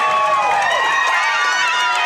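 A softball crowd at Paul Schnarry Field roars and cheers loudly after a home run, a steady close wash of many voices filling the moment.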